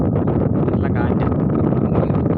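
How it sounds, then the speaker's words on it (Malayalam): Strong wind blowing outdoors over an open paddy field, a steady, loud, rough buffeting roar that fills the whole moment without a break. "നല്ല കാറ്റ്"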